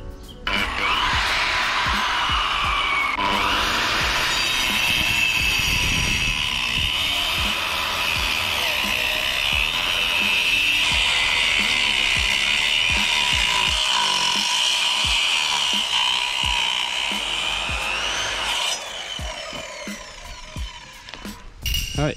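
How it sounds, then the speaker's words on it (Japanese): A concrete cutter saws into an old paved road at a campsite, its motor whining loud and steady for about twenty seconds with grinding blade noise, easing off near the end. "早速カッター入れからスタートしていきましょう"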